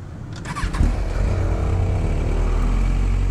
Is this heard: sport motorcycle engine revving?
yes